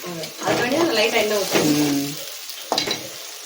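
Ground masala paste for a palak spinach dish sautés in a pan with a steady sizzle, loud talk running over much of it and a sharp clatter near the end.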